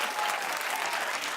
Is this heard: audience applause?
yes